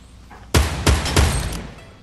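Rapid gunfire from a weapon in the video game Fortnite: three loud, sharp shots at about a third of a second apart, each with a booming low end, followed by a brief tail and one fainter shot.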